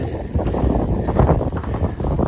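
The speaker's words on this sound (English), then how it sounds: "it's a tad bit windy today" Steady wind buffeting a microphone, a loud low rumble with gusty surges throughout and no voices.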